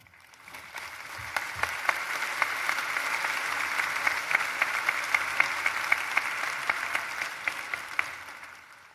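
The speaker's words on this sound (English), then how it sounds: "Let's give him another round of applause." A crowd at the Spring 2018 MTSU graduation ceremony breaks into sustained applause that swells from quiet, holds as a dense field of many hands clapping for several seconds, then tapers off at the end.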